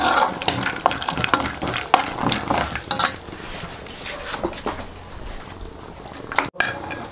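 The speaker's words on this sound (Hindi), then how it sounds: "ये जो हमने पीनट्स रखे हैं इनको फ्राई कर लेना है। पीनट्स को हमने थोड़ी देर चलाना है" Peanuts frying in ghee in a pan while being stirred, a steady close sizzle broken by scraping clatter of the spoon against the metal, with no voices.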